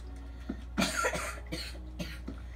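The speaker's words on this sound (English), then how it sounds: "Sorry if I'm coughing" A person coughs several times in a short burst, a few separate rough coughs close to the microphone with a low hum behind them.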